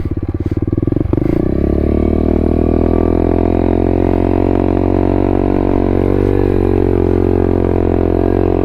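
A pit bike's small engine revs hard and steadily while being ridden, a loud, close, continuous buzzing drone that climbs in pitch early and then holds, with a brief clatter near the start.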